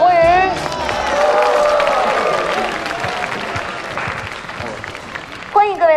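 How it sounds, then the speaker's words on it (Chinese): A studio audience at a dating show claps and cheers for about six seconds, sustained applause with crowd noise, a voice rising above it at the start and end. "大家掌声欢迎。"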